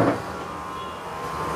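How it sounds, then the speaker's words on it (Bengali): A Toyota Corolla Cross hybrid with an 1800 cc engine idles with the air conditioning off, giving a smooth, steady, fairly quiet hum with no revving. "গাড়ি স্টার্টে এসি ছাড়া সাউন্ড পাইতেছেন? অনেক স্মুথ সাউন্ড ভাই"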